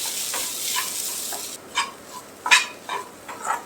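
A spoon stirs a mixture of green chili and dry coriander powder in a pan, with soft scraping strokes and light sizzling. The strokes come in a few distinct bursts, fairly near and not loud.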